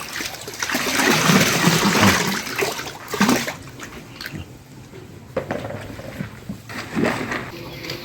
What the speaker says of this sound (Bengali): এই যখন পানিগুলো প্রায় শেষ শেষের দিকে খেয়ে নিচ্ছে